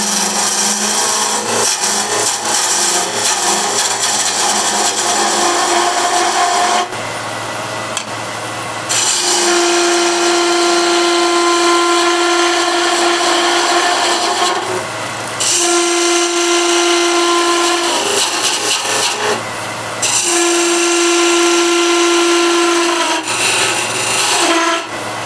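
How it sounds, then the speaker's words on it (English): A skew chisel cuts a tenon into a walnut bowl blank spinning on a wood lathe, a loud continuous scraping rasp with a steady motor hum, broken by several brief pauses as the tool lifts away. "So I'll do first tenon here for the bottom using the skew"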